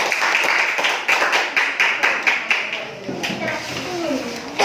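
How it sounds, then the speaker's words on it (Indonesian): Children in a classroom clap their hands together in a quick, steady run of claps that fades out as talking takes over. "ayo tepuk tangan dulu"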